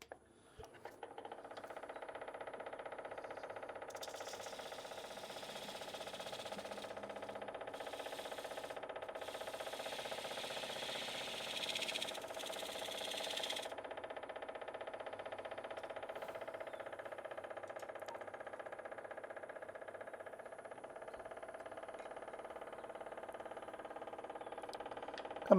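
Wood lathe motor spinning steadily up to about 1,000 RPM while refurbishing an old box elder bowl, a continuous mid-level hum with a broader airy whir rising in the middle, no talk.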